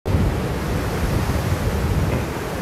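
Strong wind at Van Riemen's Pass roars steadily and loudly, buffeting the microphone with a constant broad rushing noise and no pauses.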